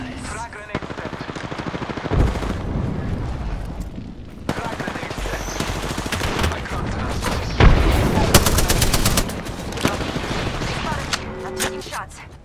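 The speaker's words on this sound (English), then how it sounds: "Shot fired." Apex Legends gunfire crackles in rapid automatic bursts and sharp single shots, loud and close, interrupted by short pauses and a few heavier booming hits, with occasional game voice lines mixed in.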